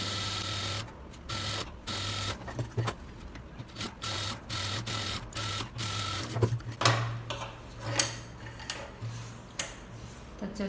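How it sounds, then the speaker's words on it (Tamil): A sewing machine stitches a blouse lining in bursts, its needle thumping rapidly with a low motor hum that starts and stops, then some clicks and handling taps later on, close by without talk. "இதுக்கு மேலே ஒரு தையல் போட்டுருக்கோங்க"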